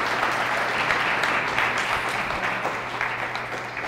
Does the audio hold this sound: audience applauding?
yes